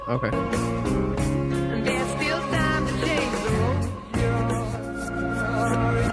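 Dense rock music with a band and vocals plays with a warped, reversed quality, swelling phrases and no clear attacks, with a brief dropout near the end.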